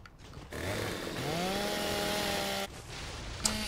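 A chainsaw revs loudly in Gears of War 2, a steady rising whine of about two seconds between rougher mechanical bursts, with no talk over it.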